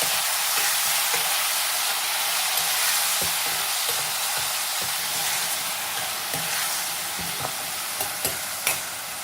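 Ridge gourd with chopped green chilli, salt and turmeric sizzling in a pan while being stirred, with a steady frying hiss and scattered scraping knocks of the spoon against the pan.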